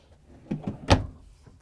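A few short wooden knocks and slides of a storage drawer in a Tiffin Allegro Red 33AA motorhome being pulled and pushed shut, with the loudest thump near the end, fairly close.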